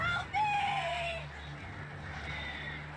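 Hostile birds attacking in Alan Wake Remastered, heard as shrill, screeching calls near the start over a dense, rumbling game ambience that holds steady throughout.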